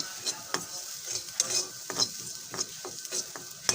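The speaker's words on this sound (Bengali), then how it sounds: "কালিজিরা এখানে আমি ভেজে নিতেছি" Black cumin seeds (kalonji) frying in a pan, with a soft steady sizzle broken by sharp scrapes and clinks of a spatula stirring against the metal, close and fairly quiet.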